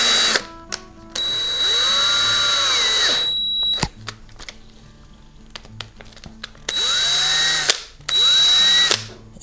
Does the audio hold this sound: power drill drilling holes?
yes